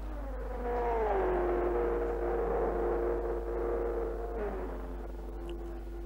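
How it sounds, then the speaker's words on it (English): A steady engine drone with a rising and falling whine as race cars pass, held at a fairly even level throughout. "the noise of passing race cars"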